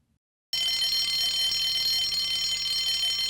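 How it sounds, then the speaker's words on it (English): A loud, continuous electronic alarm rings out in a rail yard, starting abruptly after a brief silence and holding a steady high-pitched tone. "suddenly the alarm came on"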